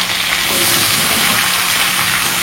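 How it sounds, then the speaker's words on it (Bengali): Potatoes fry in a pan in a home kitchen, giving a steady, close, loud sizzle with no talk. "আলুটা প্রায় ভাজা হয়ে গেছে,"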